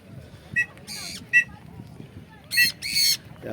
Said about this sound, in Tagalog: Anong ibon yan? Macau ba yan?